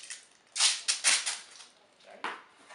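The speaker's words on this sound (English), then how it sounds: "grab a piece of duct tape, grab our scissors, cut it" Scissors snip through a strip of duct tape while a low-budget fishing backpack is assembled, with three or four crisp, close cuts in quick succession and a last snip after a short pause.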